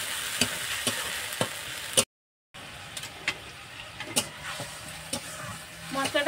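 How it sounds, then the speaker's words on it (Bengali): Ground spice paste with a little hot water fries in a pan, giving a quiet, low sizzle broken by sharp scraping clicks from a stirring spoon, with a short gap of silence partway through. "মশলাটা খুব ভালো করে আমি কষিয়ে নেব।"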